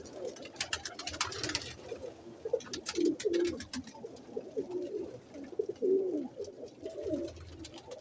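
Breeding pigeon pairs settled in their nest boxes, a soft overlapping chorus of low throaty cooing from several birds, fairly near, with faint rustling and flutters in the background.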